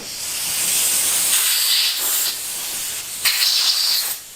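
Compressed air blasting to blow a stuck part out of a Harley-Davidson Springer handlebar riser, a loud steady hiss with short surges, close-up, lasting several seconds.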